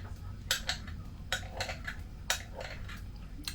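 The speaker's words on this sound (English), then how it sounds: "And I shall just stir that through." A utensil stirs fruit coulis through meringue mixture in a bowl, giving several sharp clinks and scrapes against the bowl at irregular intervals over a soft background.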